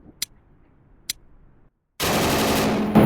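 A machine gun fires in the VR shooter Tactical Assault VR (TAVR): two sharp single shots come first, then after a brief silence a loud, dense burst of rapid automatic fire continues to the end.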